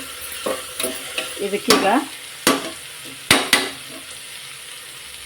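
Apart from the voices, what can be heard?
frying and stirring spices in a pan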